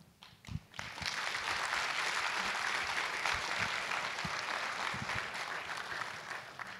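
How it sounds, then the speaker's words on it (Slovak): Audience applause at a benefit concert, sustained even clapping from a large crowd that starts after a short pause and continues steadily throughout, fairly distant and filling the room. "si nepochybne tento váš srdečný úprimný potlesk zaslúžila"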